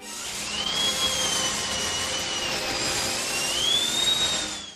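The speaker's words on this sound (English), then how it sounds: "Yep, that's the sound of a dentist drill." A high, whining dental drill pitch glides up and down over a dense synthetic music bed in a wrestling theme song, steady and loud throughout.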